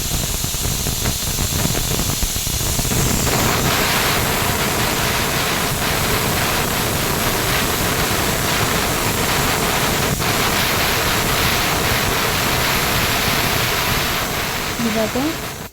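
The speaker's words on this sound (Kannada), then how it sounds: "ಕುಕ್ಕರ್ ವಿಷಲ್ ಬಿಟ್ಟಿದೆ" A pressure cooker holding a soaked rice and lentil mixture vents steam in a loud, continuous, rushing hiss that stays steady for about fifteen seconds before easing off at the end.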